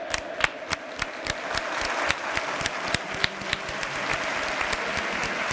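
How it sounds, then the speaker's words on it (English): Stadium crowd at a FC Barcelona versus Brest Champions League match applauding a player's substitution, a broad wash of distant clapping with a few sharper nearby claps standing out, sustained throughout. "A round of applause for Pedri"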